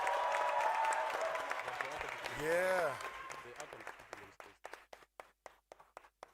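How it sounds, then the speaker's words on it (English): Applause from a debate audience runs under a speaker's voice, then fades to a few sparse, separate claps at the end. "Can we get another round of applause for the honorable members?"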